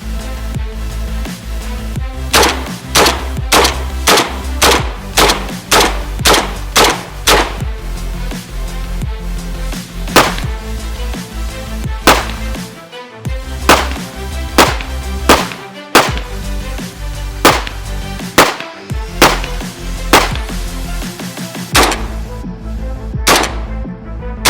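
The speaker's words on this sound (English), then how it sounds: "I'm dying to put a couple of rounds down range and see how she performs." A Huntgroup VM15 Destroyer air rifle fires over and over, each shot a sharp, loud crack. The shots come in quick bursts separated by short pauses and carry on throughout.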